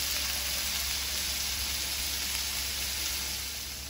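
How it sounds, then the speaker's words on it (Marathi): Stuffed kantoli (spiny gourd) frying in a pan gives a loud, steady, close-up sizzle with a constant bright hiss that holds throughout, no voices. "ही कंटोळी आपली फ्राय झालेली आहे"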